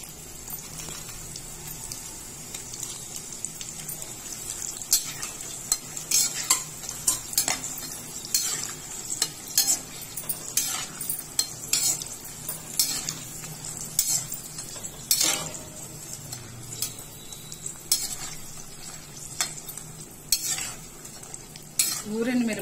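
Sun-dried curd chillies fry in oil in a clay pot, a steady low sizzle under repeated scraping and clinking strokes of a spoon stirring against the pot, close and without talk.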